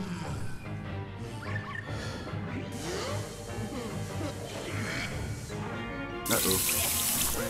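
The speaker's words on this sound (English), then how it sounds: "Uh-oh. Ah, water. I've been waterlogged." Water splashes and pours in a sustained rush in Luigi's Mansion 3 on Nintendo Switch, with a brighter surge near the end and faint game sounds underneath.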